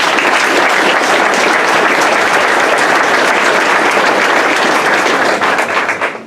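Loud, dense applause fills the room at a senior sports banquet, a steady roar of many hands clapping together without pause before tapering off at the very end.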